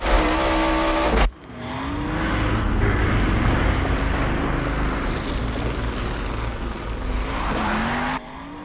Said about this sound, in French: De l'aveu même de Ken Block, c'est l'engin motorisé le plus terrifiant qu'il ait jamais conduit de sa vie.